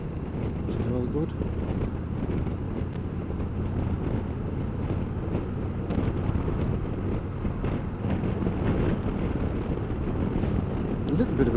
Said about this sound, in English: A little bit of a breeze blowing, which you may be able to hear through the helmet